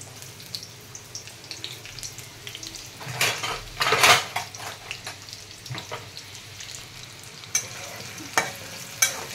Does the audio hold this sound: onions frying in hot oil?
yes